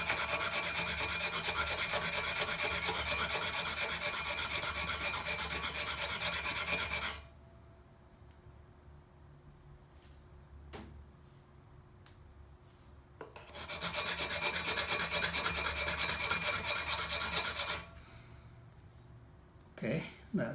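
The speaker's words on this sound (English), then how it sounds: "I like to sharpen my tool before I trim." A pottery trimming tool, a number two trimmer, is sharpened with a diamond file in steady rasping strokes, in two long bursts separated by a quieter pause.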